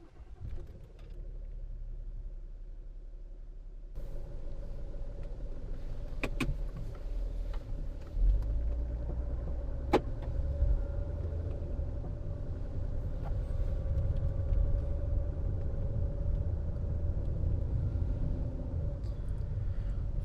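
Cabin sound of a rare French luxury sedan on a drive, a steady low road and engine rumble filling the interior throughout, with a few brief clicks and thumps and no talking.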